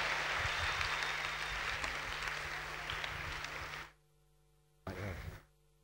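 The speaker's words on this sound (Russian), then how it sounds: "Давайте дадим большие-большие аплодисменты." Audience applause at a youth church gathering, a sustained wash of clapping for several seconds that cuts off abruptly, followed by near silence and a short further burst.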